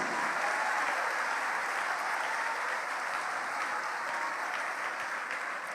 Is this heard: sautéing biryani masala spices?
no